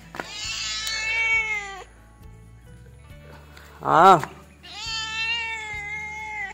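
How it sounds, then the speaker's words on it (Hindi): A cat meows several times, long drawn-out calls with a sharper cry in between, close by over a quiet background, with someone speaking briefly. "ये बिल्ली भी कुछ कहना चाह रही है"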